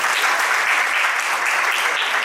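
Dense, vigorous applause from a large audience at a community reunion gathering in Ahmedabad, honoring the committee members, a continuous close wash of many hands clapping at steady volume.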